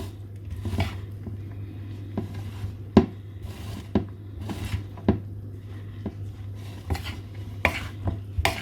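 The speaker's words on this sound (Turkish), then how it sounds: "Dolmalarım da güzelce kaynıyor." Gentle bubbling of stuffed vegetables, including zucchini, simmering in a pot under a steady low hum, with occasional clinks and scrapes of a utensil against metal.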